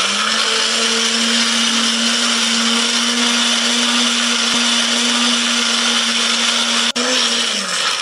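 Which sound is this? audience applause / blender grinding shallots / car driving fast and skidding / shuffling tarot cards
blender grinding shallots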